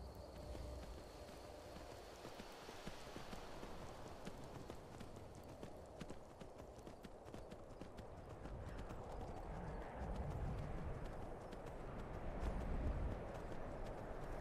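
A horse's hooves clop in a steady galloping rhythm in Skyrim, continuous and moderately loud over a noisy, rumbling game background.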